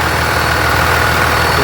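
A truck engine, recently replaced, idles steadily just after starting up, a loud, even low rumble that holds constant throughout.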